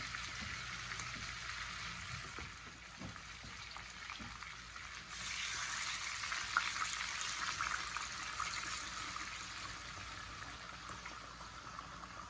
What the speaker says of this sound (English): So we're going to add some beef broth and some little bit of red wine.